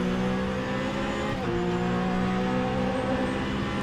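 LMP2 prototype race car engine in the sim racing game Le Mans Ultimate, a sustained, loud buzzing drone with layered harmonics that holds steady with slight pitch shifts throughout, no voices.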